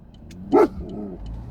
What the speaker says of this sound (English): Stop barking at the little doggy.